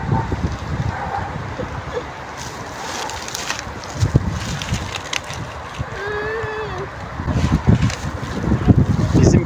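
Wind blowing outdoors on a hillside among pine and quince trees, a steady broadband rush buffeting the microphone for the whole stretch, with faint bird chirps and brief muffled voices in the background.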